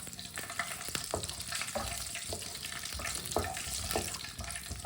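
Whole cumin and coriander seeds dry-roasting in a pan while being stirred, a steady bright crackling hiss with soft scraping strokes recurring throughout, close and fairly loud.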